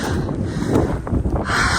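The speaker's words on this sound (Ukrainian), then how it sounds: "О, вітер як" Mountain wind buffets the microphone in a steady low rumble, close and loud, with no voices.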